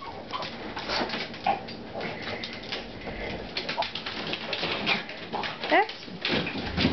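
A Boston terrier whimpers and whines in thin, rising bursts near a refrigerator, scattered over steady room noise with faint cooing tones.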